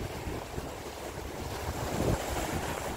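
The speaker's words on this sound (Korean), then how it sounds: "자, 여러분들 지금 파도가 굉장히 셉니다." Heavy sea surf crashes and churns on a rocky fishing shore in strong wind, a dense continuous roar with wind buffeting the microphone.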